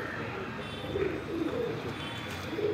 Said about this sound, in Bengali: দেশি গিরিবাজ কবুতর।